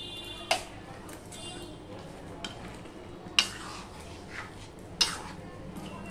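Spoon stirring garam masala into a vegetable curry in a pan, a few sharp clinks against the metal at intervals over a soft, steady background.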